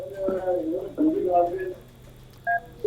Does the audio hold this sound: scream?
no